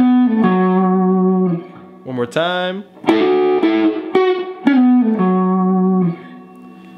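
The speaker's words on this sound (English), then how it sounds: "All right, here we're doing some double stops." Slow electric guitar double stops, with overdrive and effects: paired sustained notes with bends and slides in several phrases, close and loud, briefly broken by someone speaking.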